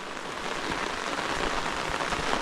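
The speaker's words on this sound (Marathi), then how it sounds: "कारण पाऊस आहे ना बऱ्यापैकी चालू झालेला आहे" Steady rain falls on an open farm field during the turmeric and ginger planting season, a dense, even hiss that holds at a constant level, with no voices.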